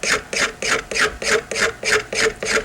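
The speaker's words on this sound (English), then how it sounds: "I'm also rotating the scraper itself, rolling it so that I can pick up on the second edge and then the third edge" A metal cabinet scraper drawn across wood in a steady rhythm, about nine raspy strokes in under three seconds, close and loud with no talk.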